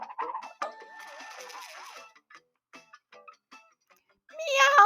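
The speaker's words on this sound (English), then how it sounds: ""Meow, meow," cried the cat." Cartoonish cat meows, a short wavering cry followed by a longer warbling one, then a pause with scattered small clicks and a loud final meow, as a sound effect in a children's story.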